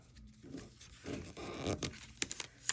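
Paper backing is peeled and torn away from sticky embroidery stabilizer, giving a few scraping, ripping strokes followed by quick crackling tears, close and fairly quiet.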